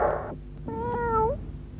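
A cat gives one clear, drawn-out meow that rises slightly at its end, heard close and alone after a brief soft noise at the start.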